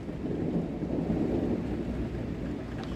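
Thunder from a hurricane storm, a deep continuous rumble rolling in the distance over steady rain noise, with no voices.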